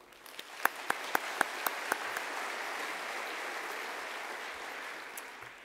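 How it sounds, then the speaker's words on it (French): Audience applause in a lecture hall after a presenter asks the room to clap, starting with a few sharp individual claps and swelling into steady, dense clapping that holds for several seconds before thinning out. "Je vous demande de l'applaudir, s'il vous plaît."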